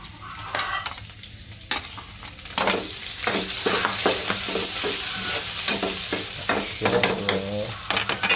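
Onions and chili fry in a hot pan, with a continuous crackling sizzle broken by frequent scraping stir strokes, close and fairly loud throughout.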